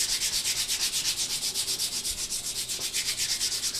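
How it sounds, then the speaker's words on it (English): Sandpaper at 60 grit scrubs back and forth over the varnished finish of a wood furniture piece, a steady rhythmic rasping of even strokes, close and continuous throughout. "we're going to sand that finish just a little bit"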